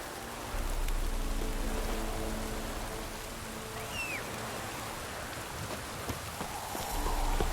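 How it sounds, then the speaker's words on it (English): Steady rain patters in The Witcher 3, a continuous hiss of falling drops with faint hoof clip-clop and a brief bird-like call, close and even throughout. "Looks like rain."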